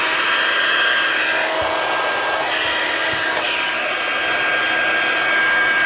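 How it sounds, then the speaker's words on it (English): Heat embossing tool blowing hot air over embossing powder on a tropical-themed gift box, a loud continuous close-up roar like a hair dryer, steady throughout with no talking. "a heat tool. So this is going to be kind of loud."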